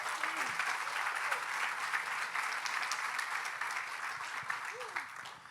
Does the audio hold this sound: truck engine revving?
no